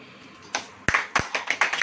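A church congregation starts clapping hands during a Hindi sermon, with a few scattered claps that settle into a quick, rhythmic beat of sharp, close slaps.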